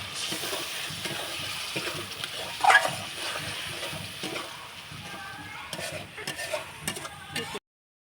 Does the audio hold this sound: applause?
no